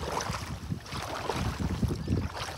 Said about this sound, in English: Big wind gusts coming through.